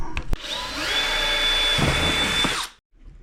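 A power drill whirs at high speed for about two seconds, with a few clicks before it starts, then stops abruptly into silence.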